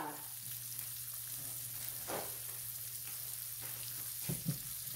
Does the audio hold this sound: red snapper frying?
yes